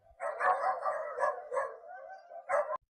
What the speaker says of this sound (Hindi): सिर्फ बारिश की बूंदें और दूर कहीं कुत्तों के भौंकने की आवाज।